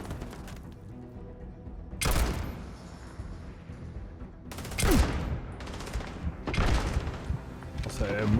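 Bursts of weapon fire in the video game Starfield, sci-fi gunshots popping in separate clusters over a steady game soundscape, loud and close, with a voice talking between volleys.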